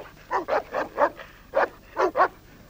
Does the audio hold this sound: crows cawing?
no